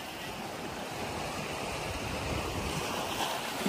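Steady roar of ocean surf washing onto Shek O Beach in Hong Kong, a continuous rushing wash with some wind buffeting the microphone.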